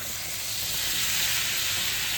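Water poured into a hot kadai of oil, for a dish of chillies coated in gram flour, sends up a loud, steady, close sizzle and hiss that holds throughout with no talking.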